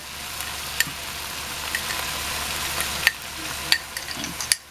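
Canned hamburger meat frying in a pan with rice and vegetables, a steady close sizzle with occasional sharper pops and crackles throughout, no talking.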